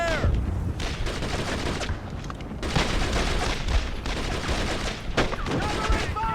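Dense, continuous small-arms and machine-gun fire crackles through a battle in the Brothers in Arms video game, loud and close, with volleys overlapping for the whole stretch.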